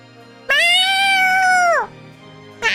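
A single drawn-out meow mimicked by a human voice, loud and close, with clear harmonic pitch gliding down at the end; a quieter sound starts just after.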